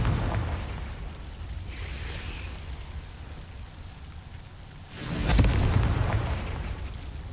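Confringo explosion spell cast in Hogwarts Legacy, a sharp loud blast bursting out after a faint whoosh, ringing off over a steady hissing ambience.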